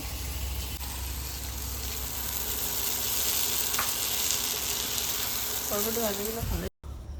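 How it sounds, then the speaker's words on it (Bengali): Yardlong beans fry in a pan with a steady, close hiss that runs throughout, and a brief voice-like tone rises near the end before a short dropout. "ও আবার এদিকে বরবটি ভাজা করছে"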